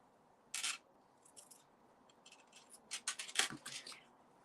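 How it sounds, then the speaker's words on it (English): Several quiet, crisp snipping and rustling sounds close by, a single cut first, then a quicker irregular run of snips. "I need to have a pair of scissors that are just for ribbon"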